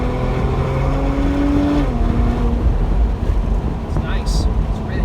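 A high-mileage Porsche engine runs loud and close, its tone climbing and dropping as the revs shift and settle into a steady rumble, with bursts of talk partly over it.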